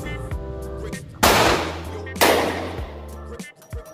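Two loud, sharp gunshots ring out about a second apart at an outdoor shooting range, each with a broad crack and a trailing echo over a faint background of music.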